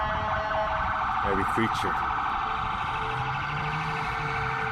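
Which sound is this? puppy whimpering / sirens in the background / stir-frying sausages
sirens in the background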